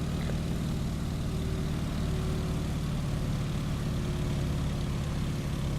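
A propeller aircraft engine drones steadily at cruise in Microsoft Flight, set to 85% throttle with 22 inches of manifold pressure and the propeller at 1900 RPM, giving a constant, even hum with no voices.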